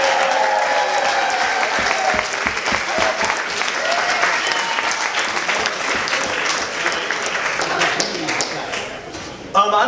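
Wedding reception crowd applauding the grandparents, steady sustained clapping from many guests filling the room for about ten seconds, with scattered voices and cheers mixed in.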